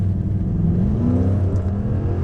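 A 2007 Ford Mustang GT with a 4.6L V8 accelerating onto a highway, with a steady, loud, throaty engine drone building under load, heard close and continuous without any talk.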